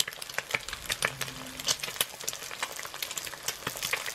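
An egg frying in a pan for Thai Pad Krapow gives off a steady crackling sizzle, with scattered sharp pops spread through the clip and no talking.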